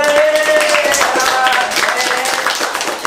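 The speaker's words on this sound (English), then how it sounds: "let's all give a round of applause" An audience at a kids' dance battle claps and cheers in a dense, loud, continuous burst of applause that fills the whole moment, with voices shouting over it.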